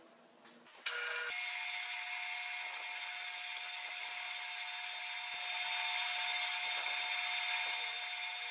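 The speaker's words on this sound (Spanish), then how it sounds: "vamos a perforar con broca de 3/4" A power drill fitted with a 3/4 inch bit bores into a part for a homemade sheet metal brake; after a brief quiet start the motor spins up to a steady, high whine that holds close and even.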